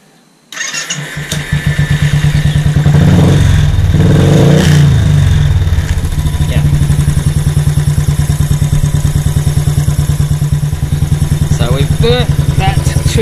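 A Royal Enfield Classic 500 with a Race Dynamics map switch starts after a brief pause, then settles into a loud, steady single-cylinder thump with a short rev swell near the start of the running.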